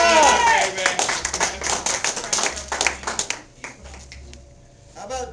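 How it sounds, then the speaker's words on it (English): Loud, dense applause from a comedy roast audience, mixed with cheers and voices, rolls on for about three and a half seconds before thinning to scattered claps and quiet. "Everybody wants to give a nice warm round of applause"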